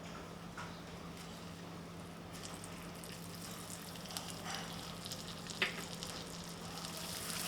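Butter goes into melted sugar in a pan for caramel sauce, giving a soft, steady sizzle with a few light clicks and taps, faint and close.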